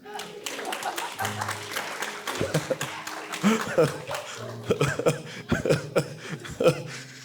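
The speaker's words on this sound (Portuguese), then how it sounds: "Recebam o Vitor com a salva de palmas." Scattered clapping from a church congregation mixed with chuckles and voices, uneven bursts rather than a sustained ovation, fairly close.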